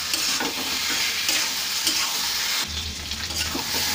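Chicken stir-frying for chicken kosha, a spiced Bengali dish: a continuous, close sizzle of meat in hot oil with steady scraping and stirring strokes, loud and unbroken, with no voices.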